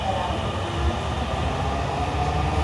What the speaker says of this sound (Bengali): মনে হচ্ছে একটা মেট্রো ছেড়ে গেল মাত্র।